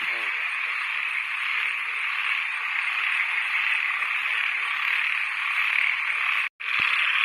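Frogs croak at night after heavy rain, forming a dense, loud, continuous chorus that drops out in one brief gap near the end before resuming.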